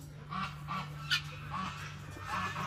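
A pet duck on a farm animal sanctuary gives a series of nasal, honking calls in short bursts, about four or five in quick succession. The calls are fairly close, and no one speaks over them.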